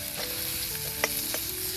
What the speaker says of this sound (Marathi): त्याच भांड्यात तेल टाकलेलं आहे आणि त्याच्यावर आपण ते छोटे छोटे तुकडे केले होते लसणाचे आणि आल्याचे ते त्याच्यामध्ये टाकलेले